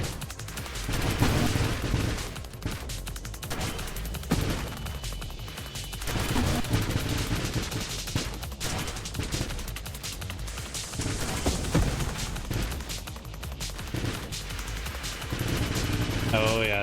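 A giant wave of missiles fires in the space shooter Nova Drift: dense, continuous rattling bursts and booms layered over game music, staying loud throughout with brief dips and surges.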